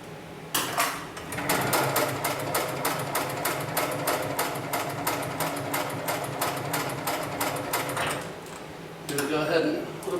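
An industrial sewing machine stitches heavy lifting slings, a rapid, steady run of loud mechanical needle strokes lasting most of the clip, with a brief pause and a short restart near the end.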